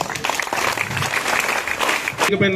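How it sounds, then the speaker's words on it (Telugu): Audience at a Telangana junior langadi tournament closing ceremony claps loudly and steadily for the whole stretch, with a voice speaking over the dense applause. "గట్టిగా క్లాప్స్"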